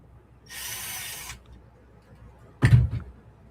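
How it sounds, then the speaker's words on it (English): Screws being pulled from an RC truck with a power driver: a close, steady whirring burst of about a second, then after a pause a louder clunk or rattle of parts being handled. "I think I got to pull a couple screws out."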